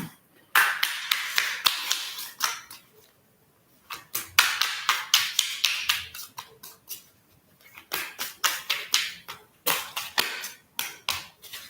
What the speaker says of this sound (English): Let me do a deeper shuffle.